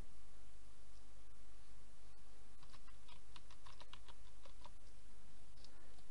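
A password being entered on a computer keyboard: a short burst of quick, light key clicks in the middle, heard close over a steady background hiss and hum, with no voices.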